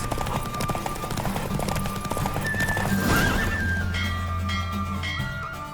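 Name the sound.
galloping horse neighing, from a video game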